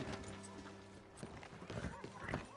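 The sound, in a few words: horse hooves clip-clopping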